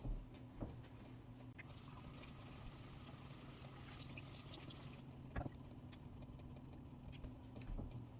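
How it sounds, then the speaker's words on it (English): Hands being washed under a running tap in a home kitchen partway through bread baking, a steady close hiss of flowing water with a low hum beneath and a few faint knocks. "I'm going to go wash my paws"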